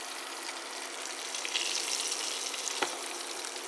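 Italian beef searing in a Dutch oven, a steady close hiss and sizzle of meat in hot fat with a brief sharper crackle near the end.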